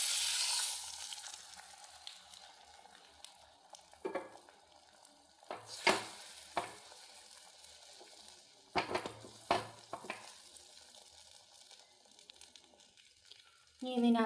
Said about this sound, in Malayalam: ഈ മുട്ട ഒഴിച്ചു കൊടുക്കാം.